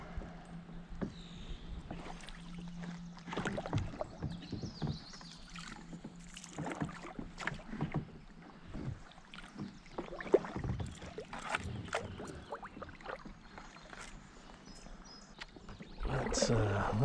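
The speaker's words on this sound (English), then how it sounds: "Let's paddle around a little bit" Paddles dip and splash irregularly as a small boat moves across a lake, with faint water gurgles and light knocks against the hull up close, while a voice murmurs at times.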